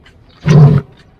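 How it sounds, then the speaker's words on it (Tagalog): A lion roars at Baluarte in Vigan: one loud, deep roar close by, lasting under half a second, with quiet surroundings before and after. "Lion's roar."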